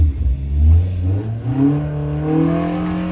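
A Hillman Imp 1200 engine with an MSD sparking system on a dyno, revving loudly with a droning tone that rises steadily in pitch as the revs climb, sustained and close.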